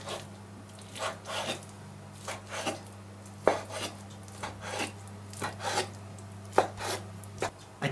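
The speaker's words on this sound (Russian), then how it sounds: "Гусиный жир я режу на небольшие кусочки." A knife slices goose fat into small pieces on a board, giving repeated rasping strokes and sharp taps at an irregular rhythm, close and clear over a low steady hum.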